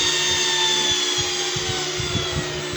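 A blower runs with a steady, loud mechanical hum and high whine, continuous and close, with faint low knocking beneath it.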